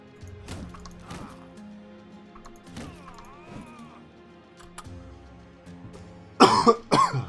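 A person coughing several times in short bursts between quiet pauses, ending in louder harsh coughs close to the microphone.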